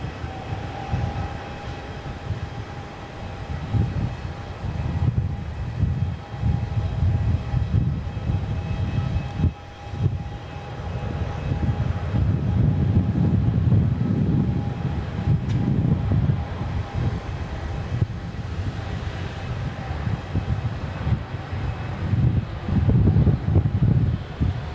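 Engines of a Boeing 787-9 Dreamliner spool up and roar on its takeoff roll at Melbourne Airport, heard from a distance as a rumbling, fluctuating low drone with a faint steady whine above it.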